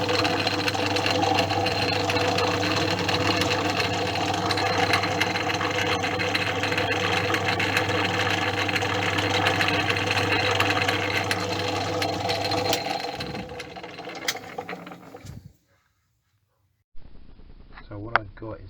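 A Portass Model S mk2 lathe runs in back gears with a steady loud mechanical hum and whir for about thirteen seconds, then winds down and stops, leaving near silence and a few faint clicks.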